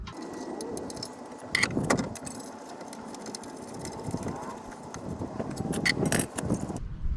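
A nut being threaded by hand onto the outer CV joint of a 2000 Hyundai Elantra, heard as light metallic jingling and rattling clinks, with a few sharper clicks, close by in a quiet garage.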